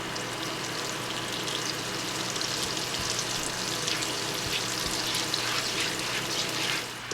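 Butter and olive oil frying in a pan over medium heat, a loud, dense, steady sizzle that carries on evenly from start to finish, with faint stirring.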